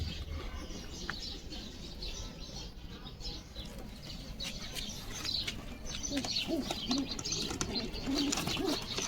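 Pigeons coo softly and steadily inside a pigeon loft, with low burbling calls layered over faint rustling and background noise.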